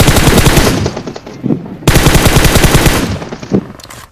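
Rapid automatic gunfire in a military shooter video game, loud near bursts of machine-gun fire filling the whole clip with a short gap in the middle, no talking.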